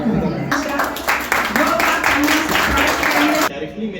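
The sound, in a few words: applause welcoming honoured hospital staff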